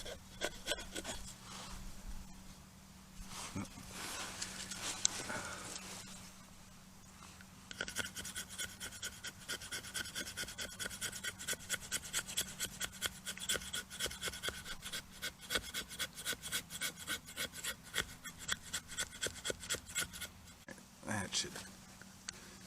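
Scraping of a brand new fire steel striking sparks onto shavings of fatwood at a bushcraft camp, heard as repeated close rasping strokes in a steady run, loud against a quiet outdoor background, with no talk over it.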